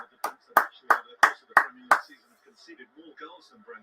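A handful of people watching a Manchester United v Brentford Premier League match clap along to the United fans' applause, six sharp, evenly spaced claps up close, followed by quiet talk.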